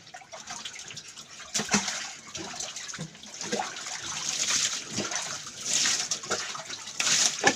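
Water runs steadily in a Bengali household while a container fills, a continuous splashing hiss that swells and surges louder at moments, with no talk over it.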